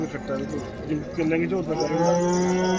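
Buffaloes and cows at a busy cattle market, with a deep, drawn-out moo swelling through the second half over a steady crowd murmur and nearby voices.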